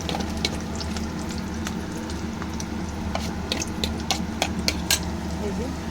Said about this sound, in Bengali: বড়াগুলো ছোটো ছোটো করে ভেজে তুলব